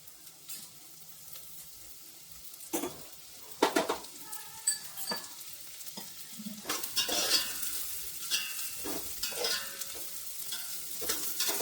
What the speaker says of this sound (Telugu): కొంచెం నెయ్యి వేసుకుని ముందుగా కొబ్బరి వేసి ఫ్రై చేసుకోండి.